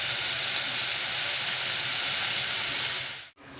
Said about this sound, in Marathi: या ठिकाणी कांदा चांगला ब्राऊन होईपर्यंत परतून घेतला आहे.